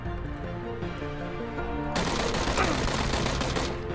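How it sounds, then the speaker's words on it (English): Gunfire in the Battlegrounds video game, a rapid burst of shots from about the halfway point over a musical, rhythmic background, with some voice mixed in. "somewhere down there, I hear shots."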